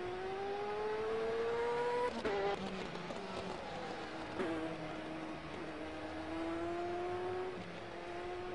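A sim racing video game race car engine drones steadily for several seconds, its pitch rising and dropping as gears shift, with no talk over it.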